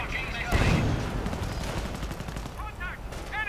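Mortar and gunfire sound in a real-time strategy video game, with a burst of explosive booms and rattling shots under continuous excited commentary.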